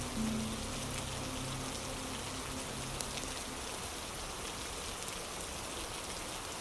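Steady rain falls on a gloomy, drizzly London evening, a dense even patter that holds throughout at a soft, constant level with no voices.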